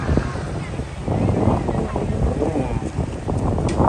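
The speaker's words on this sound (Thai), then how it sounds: "ลมแรงมาก" Strong wind gusts across a beach on Ko Lan island near Pattaya, a continuous loud roar buffeting the microphone with surf-like rush throughout.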